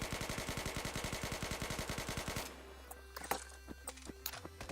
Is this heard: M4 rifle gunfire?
yes